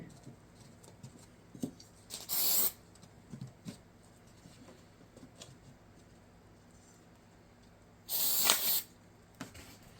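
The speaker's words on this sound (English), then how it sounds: "we're going to hit that with a little activator" Glue activator sprayed onto laser-cut pieces comes as two short, sharp hissing bursts a few seconds apart, set against a quiet background with faint handling taps and clicks.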